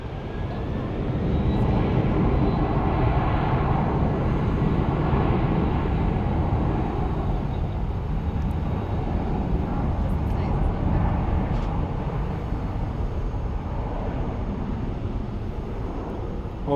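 A large airliner departs from Phoenix Sky Harbor bound for Oakland, a broad, steady jet roar rising and holding at moderate distance, with voices talking over it.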